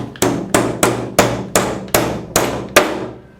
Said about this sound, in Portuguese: vamos dar aqui umas marteladas e vamos levar isto ao lugar